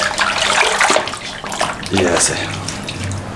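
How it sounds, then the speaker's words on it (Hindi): Water pours into a bowl holding a mutton leg soaking in vinegar and salt, a loud, close, continuous splashing and gushing with uneven surges, while a voice speaks briefly over it. "इसको पानी और डाल दें, अच्छी तरीके से डिप हो जाए इसमें इस तरीके से"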